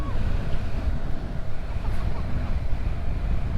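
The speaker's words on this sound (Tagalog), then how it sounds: "Ang lakas ng hangin!" Strong wind roars and buffets against the microphone in a continuous loud rush while riding a Yamaha NMAX V2 motorcycle on Kennon Road.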